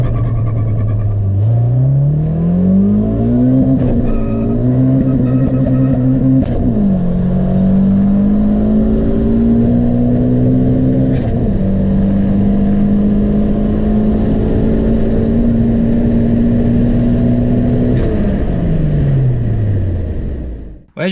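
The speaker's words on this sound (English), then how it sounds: "I went out and did a 30 psi pull" A turbocharged VTEC car pulls hard on 30 psi of boost, the engine climbing steadily through several gears with brief dips at each shift, loud and close from inside the cabin, until it cuts off abruptly at the end.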